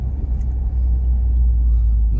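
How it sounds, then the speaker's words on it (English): A car engine fitted with a Cobb Stage 1 intake idles with a steady low rumble. The throttle flutters slightly, and the sound stays close and fairly loud throughout. "Now, for some reason with the Stage 1, I've got a little bit of a fluttering throttle."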